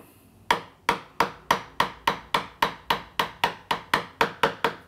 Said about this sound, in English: Up in the vise, tap it down while tracking the shoulder line on the front.